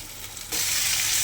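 Dried fish hits a hot pan with softened tomatoes and onions for a curry, bursting into a loud, steady sizzle after a moment of quiet and frying continuously without pause.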